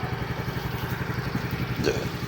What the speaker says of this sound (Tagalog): painitin muna natin yung makina kasi ilang araw na yung ano hindi nagagamit